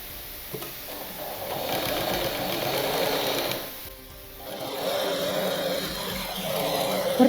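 Sewing machine stitching along a blouse seam, a steady close mechanical whirr that runs almost throughout, dips briefly, then resumes.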